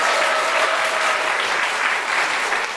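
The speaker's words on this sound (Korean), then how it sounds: "어디까지가 야유이고 어디까지가 환호인지 구분이 가지 않는다" Steady applause from a concert audience at a book concert with piano, dense and continuous for the whole stretch, with no individual voices standing out.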